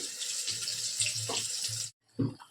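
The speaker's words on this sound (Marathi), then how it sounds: "थोडंसं पाणी टाकतोय, मसाल्याचं" Water pours steadily into a pan of Surmai fish curry masala with red chilli powder, a close hissing stream that stops abruptly and is followed by a short clatter.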